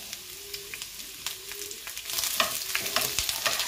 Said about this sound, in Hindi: और ये थोड़ा स्टर करना है, थोड़ा चला देना है, और इसे 2-3 मिनट के लिए इसे फ्राई होने के लिए छोड़ देंगे